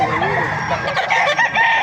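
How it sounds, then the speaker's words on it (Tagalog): A rooster crows once at close range, a loud drawn-out call, with faint clucking around it. "Napakagandang manok ito mga kamaster."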